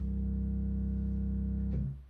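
A deep, steady organ pedal tone from a modeled 16-foot sub bass pipe holds low and sustained for nearly two seconds, then cuts off.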